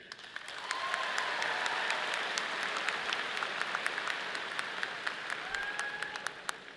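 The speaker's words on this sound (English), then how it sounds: "Why don't you hold your applause or maybe just give a single clap for Pam Jackson, interim vice president for" Sustained audience applause fills a convocation hall for several seconds, steady and dense, with a few sharper individual claps standing out and faint tonal squeaks drifting over the crowd.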